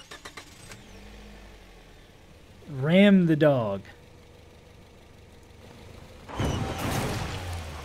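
A car engine in the survival tactics game Overland runs low and steady, then a louder rough burst of engine noise rises near the end, with someone talking briefly over it.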